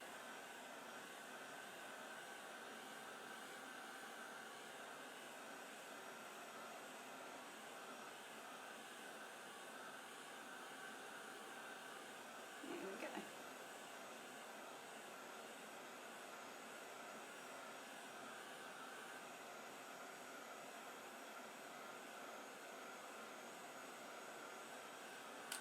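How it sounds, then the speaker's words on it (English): A heat gun blows a steady, faint airy whoosh as it warms embossing powder on pink vellum flowers for a card, with a brief soft knock partway through. "Once again, keeping our heat gun moving."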